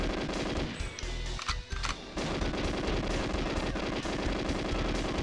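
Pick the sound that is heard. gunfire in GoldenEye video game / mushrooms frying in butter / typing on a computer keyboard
gunfire in GoldenEye video game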